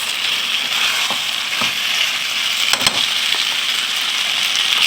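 Vegetables for chicken chow mein sizzle and fry in a hot pan, a loud continuous crackle with a few brief stirring knocks and scrapes, close up with no talk.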